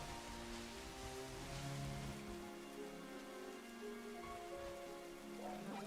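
Steady, faint rain hiss from weather in the Pokemon Scarlet & Violet video game on Nintendo Switch 2, falling evenly throughout, with soft tonal game music beneath it and no speech.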